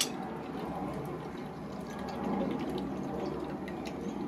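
Coconut milk is poured into a chicken bone curry, a soft, steady liquid splashing and trickling sound, faint and continuous, with no talk.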